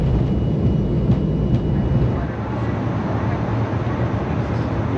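Inside the cabin of a KLM airliner bound for Amsterdam, a loud, constant engine roar and broadband rush carries on without a break.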